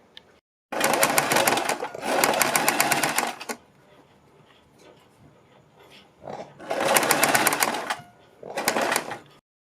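A sewing machine stitches the neck of a suit in four bursts of rapid mechanical whirring, each lasting about one to three seconds, close and clear, separated by quiet pauses with faint handling sounds.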